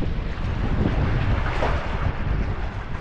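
Breezy coastal wind at a small fishing village rumbles steadily and loudly across the microphone, a constant gusty roar with no voices.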